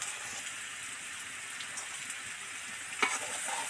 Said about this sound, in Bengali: এঁচড়গুলো তো ডিপ ফ্রাই করে ভেজে নিলাম।